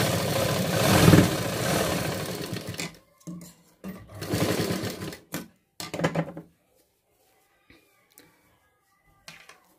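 A sewing machine stitches tucks on a lined blouse in several short runs, a whirring buzz in bursts of one to three seconds separated by pauses, ending in near silence with faint handling clicks.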